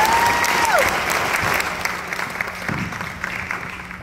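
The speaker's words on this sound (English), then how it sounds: "Please give a round of applause for the departing Bobcat Battalion staff." Steady applause from a seated audience at a high school NJROTC change-of-command ceremony, honoring the departing battalion staff; dense, sustained clapping fills the room for about four seconds.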